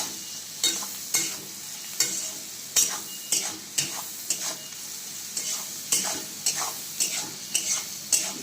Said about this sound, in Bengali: এটা তোমরা দেখতেই পাচ্ছ কত সুন্দর এটা ফ্রাই হচ্ছে